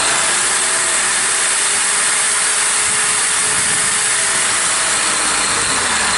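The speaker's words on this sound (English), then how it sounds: "There you can see the grinder works the way it is supposed to" An angle grinder runs steadily on power from a portable generator, a loud continuous whine and hiss with a faintly shifting motor tone, close by and uninterrupted throughout.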